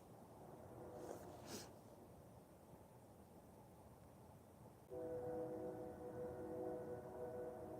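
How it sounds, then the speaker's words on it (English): A train far off in the background on a night outdoors during a total lunar eclipse, faint at first, then a steady low droning horn-like tone rises in the second half and holds to the end. "Can you hear the train in the background?"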